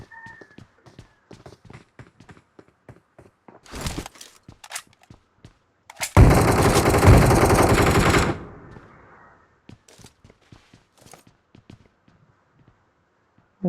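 Shotgun fire in the battle royale game PUBG, a dense burst of loud blasts lasting about two seconds, preceded and followed by scattered sharp shots and clicks, with no talk.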